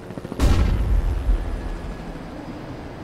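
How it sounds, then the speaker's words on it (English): A grenade blast in CS:GO gameplay, a single loud, close boom with a sharp onset that decays into a rumbling roar and lingering reverberation, followed by quieter ambient game noise. "Throwing a grenade."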